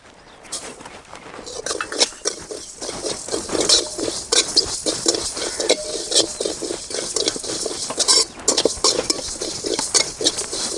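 Fennel seeds crackle and pop in a hot pan while being stirred, a dense, steady sizzle of small patters mixed with occasional light metallic scrapes and clinks of a spoon, close and continuous.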